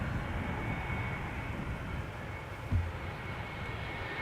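An Airbus A320neo arrives at Amsterdam Schiphol's Polderbaan runway on a hot, sunny day, heard as a steady, distant broadband roar with a brief dull thump near the end.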